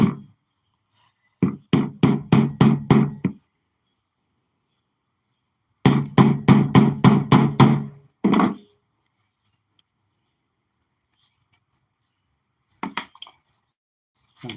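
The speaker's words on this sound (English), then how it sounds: "Now I'll ram more clay to create a bulkhead." Clay is rammed by hand to build a bulkhead, heard as quick bursts of sharp, rhythmic knocking strikes, two loud runs of about six blows each, followed by a few fainter taps.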